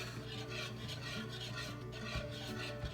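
A whisk stirs a cream and egg base into heavy cream for crème brûlée, giving a steady, continuous rasping scrape of metal wires through liquid, close and moderately quiet with small rhythmic accents and no talking.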